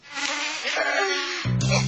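Mosquito whining in a Good Knight Advanced mosquito spray advert, a close, continuous high-pitched insect buzz that wavers in pitch, ending with a sharper, louder electronic-sounding hum.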